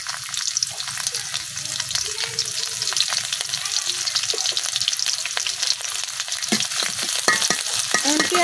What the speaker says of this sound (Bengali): এখন তেলের মধ্যে দিয়ে দিচ্ছি কাটে রাখা পেঁয়াজ আর রসুন।